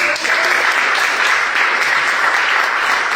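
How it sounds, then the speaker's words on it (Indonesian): Steady, dense applause from a large church congregation, loud and continuous throughout with no break. "Berikan tepuk tangan."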